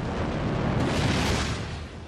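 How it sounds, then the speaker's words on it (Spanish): A burning refinery tank explodes, a dense, rumbling blast that swells and roars for a couple of seconds before fading slightly. "Se eleva muchísimo la temperatura del tanque y acaba explotando."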